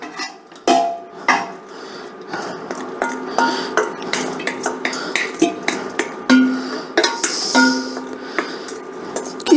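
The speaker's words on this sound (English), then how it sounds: "I'm going to dump my pasta back into the pan" Cooked macaroni tumbles back into a metal pan, with a busy run of close clanks, scrapes and spoon knocks against the pot over a low background hum.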